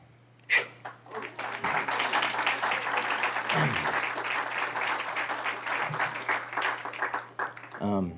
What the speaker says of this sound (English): You guys don't have to clap after every poem.